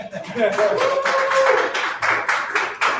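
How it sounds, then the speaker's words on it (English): A crowd at a brewery pregame show claps for the Cavs hockey team, a dense run of near clapping with voices and cheers through it, the claps thinning into distinct bursts toward the end. "can we get another round of applause for the Cavs this year?"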